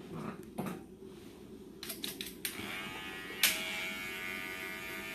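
A BaBylissPro hair trimmer starts up after a few light clicks and handling noises, then buzzes steadily and close by with a thin, even whine until the end.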